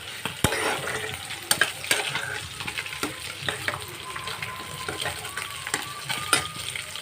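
Water spinach (kalmi shak) frying in a pan on a gas stove, stirred with a utensil: a steady close sizzle with intermittent scraping clicks and knocks of the spatula against the pan.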